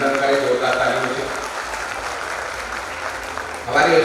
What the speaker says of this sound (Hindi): मैं चाहता हूँ पूरा सदन एक बार अभिनंदन करे जोरदार तालियों से